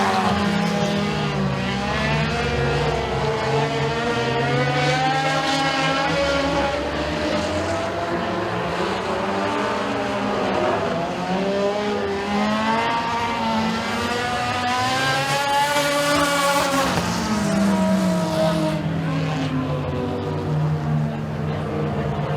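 Race cars in a heat race at Eriez Speedway, a dirt oval, roar continuously with loud, layered engine drone, several cars close together in a battle for the lead, their pitch rising and falling as they circle the track.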